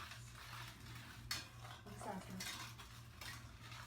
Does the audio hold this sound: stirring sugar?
yes